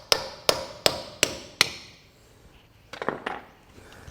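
A screwdriver taps a pin on a John Deere 4WD tractor front hub, giving five sharp, evenly spaced metallic knocks up close. A few softer, irregular clinks follow after a brief pause.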